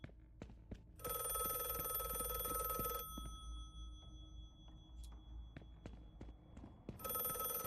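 A telephone bell rings loudly in bursts in the video game The Last Case of John Morley, two long rings separated by a pause, with scattered clicks and footsteps between them.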